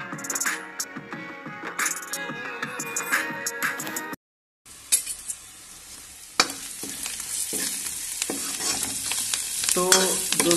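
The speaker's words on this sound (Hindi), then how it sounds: "अब कचालू के झोल के लिए तड़का लगाया जा रहा है" Spices tempering in hot oil in a pan for a taro and potato curry (kachalu jhol), a steady frying sizzle with stirring scrapes, close and moderately loud, with a brief drop to silence partway through.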